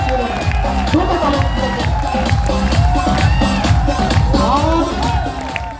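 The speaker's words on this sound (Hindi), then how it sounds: "एक बार जोरदार ताली करते हुए" An auditorium crowd in Bharatpur claps and cheers loudly and steadily for several seconds, with whoops and excited shouting mixed into the dense, continuous noise.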